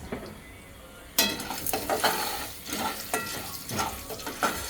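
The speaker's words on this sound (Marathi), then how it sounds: "एवढं तेल टाकायचं आणि थोडंसं हे असं गरम होऊस्तर हलवायचं" Corn kernels for homemade popcorn stirred in hot oil, starting abruptly with a rush of sizzling and repeated scraping strokes of a spoon against the pan, close and rhythmic, with light metallic clinks and no talking.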